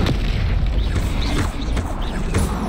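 A Confringo fire spell exploding in the video game Hogwarts Legacy, a loud, sustained booming rumble with crackling bursts layered over it, filling the whole moment without a break.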